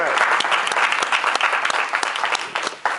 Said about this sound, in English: You should give yourself a round of applause for even being here